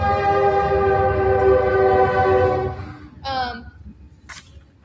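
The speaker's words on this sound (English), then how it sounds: "train." A passing train sounds a long, loud horn blast over heavy rolling rumble, then the horn cuts and a shorter higher toot follows as the noise fades.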